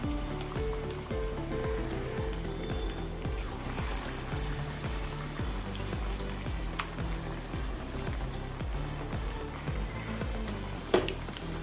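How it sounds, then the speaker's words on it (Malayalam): Battered banana pieces frying in hot sunflower oil in a deep pan, a steady crackling sizzle with dense popping, close and continuous with a faint tonal hum underneath. "ഇനി ഓരോ പീസ് പഴം എടുത്ത് നമുക്ക് മുക്കി എണ്ണയിലിടാം"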